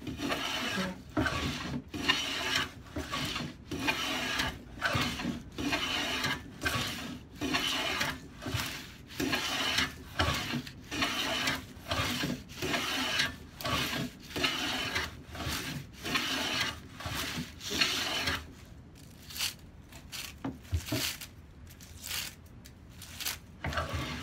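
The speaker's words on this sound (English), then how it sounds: "You can see that taking the shaving." A restored Stanley No. 10 rabbet plane taking shavings from wood, repeated rhythmic scraping strokes in steady succession, close and distinct with no talk.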